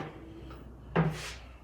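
A large built-in drawer on a router table, set up for dust collection with French cleat storage, slides and bumps shut in one short, fairly loud knock amid a quiet workshop.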